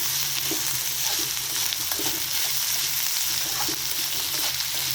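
Cauliflower, capsicum and onions fry in hot oil with ginger and garlic for gobi manchurian, a loud continuous sizzle with occasional stirring clinks and scrapes, close up and without any talking.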